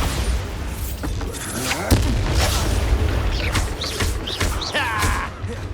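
A Bombarda spell exploding in the video game Hogwarts Legacy on PS5 during a combat duel, a loud booming blast amid a dense mix of magical whooshes, crackles and rumbling impacts.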